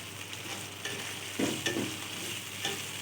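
A mixture being sautéed in a pan for Chinese rice, with a low steady sizzle and a few soft spatula scrapes and taps, close and fairly quiet.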